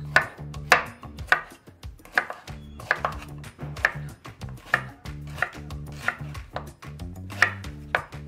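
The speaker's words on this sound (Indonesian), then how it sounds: "tinggal potong kecil, diiris kecil seperti ini sebelum dimasukkan ke blender" A knife chops rendang ingredients into small pieces on a cutting board, quick sharp taps in uneven bursts with brief pauses, close and clear with no talking.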